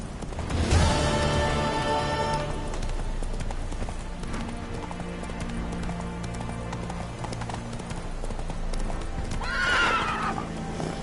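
Horse in The Witcher 3 video game, hooves clip-clopping steadily at a gallop with a loud whinny near the start and another neigh near the end, set against a low game soundscape.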